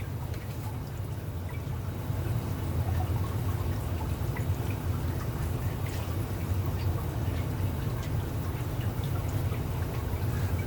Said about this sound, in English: At this point, we're just going to give it a little bit of water.